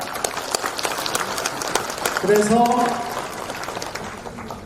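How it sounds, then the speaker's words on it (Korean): An audience at a keynote address by a Korean provincial governor claps in a moderate burst, with a voice speaking briefly over the applause and crowd murmur before it fades. "저의 청남대 개방에 대해서 동감하시면 박수 한번 쳐주시기 바랍니다."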